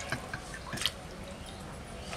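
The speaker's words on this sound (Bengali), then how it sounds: "আমি সুন্দর করে মাংসটাকে ধুয়ে নিচ্ছি" Raw mutton being rinsed in water by hand, with a few soft drips and wet squishes over faint background noise.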